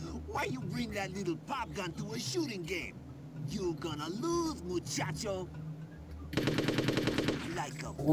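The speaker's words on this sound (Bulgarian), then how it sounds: "Той ли стреля, бе? Той стреля." Rapid automatic gunfire from the video game Hitman, a dense burst of shots near the end following scattered game sounds, with people talking over much of it.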